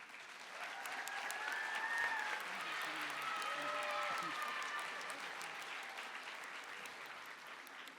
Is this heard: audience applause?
yes